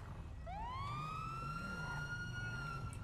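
A video game police car siren rises and wails in a single sweeping tone over a low engine rumble, moderately loud and steady.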